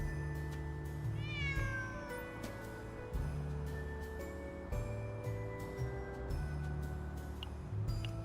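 A cat meows in a video game, a short rising mew heard over steady layered game music and ambience, with no talk.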